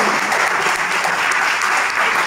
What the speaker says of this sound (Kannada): ತಾಯಂದಿರಿಗೆ ಒಂದು ಜೋರಾದ ಚಪ್ಪಾಳೆಯನ್ನು ಹಾಕಬೇಕು